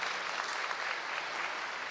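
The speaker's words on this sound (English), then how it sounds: "So yes, applause all around." Congregation members at an annual meeting of an older downtown parish clap together in brief, even applause, a steady wash of hands without talk.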